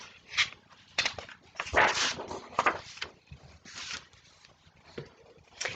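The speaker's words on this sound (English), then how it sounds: "he stands, wags his tail, and barks" A dog gives a run of short, sharp barks and yelps at irregular intervals, close and fairly loud, with quiet gaps between bursts.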